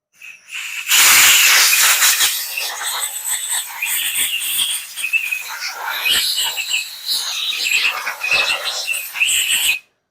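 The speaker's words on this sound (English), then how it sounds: "I want to use compressed air" Compressed air blasts dust out of a 6.0 LQ4 V8 engine block in a 1964 Chevy Nova swap. A loud, sustained, close hiss roars for about nine seconds, with fluttering and rattling changes, and no voices.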